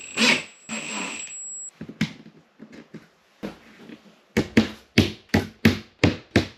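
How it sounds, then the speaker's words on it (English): Plastic caps tapped into an IKEA Billy bookcase (40x39x202 cm) during assembly: a run of sharp, close taps, scattered at first and then a steady series of about seven evenly spaced knocks, with no talk. "and then you put the plastic caps in"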